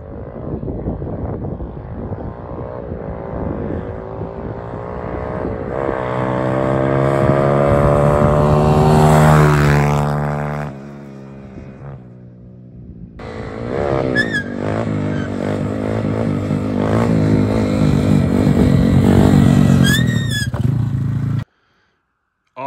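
A Honda ATC70 three-wheeler fitted with a 140cc engine fires up and runs loud and close, its harmonic drone rising as it revs, cutting out briefly, then idling and revving again before stopping abruptly.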